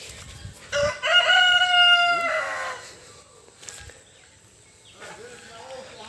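A rooster crows one loud, drawn-out call nearby among jungle fowl hens, followed by quieter clucking and rustling, with a person's voice faintly in the background.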